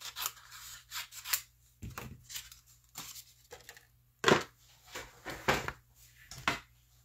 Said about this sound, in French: on va aller placer ça dans notre machine de découpe.